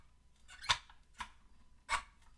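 Door of a 1:18 Greenlight 1984 Chevrolet Corvette die-cast model car squeaking as it is worked open, three short, sharp squeaks close up against a quiet background.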